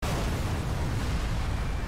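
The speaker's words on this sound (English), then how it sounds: "An explosion in the city!" A Dragon Ball anime explosion effect roars as a loud, dense blast of rumbling noise that stays sustained and undiminished for about two seconds, with no voices.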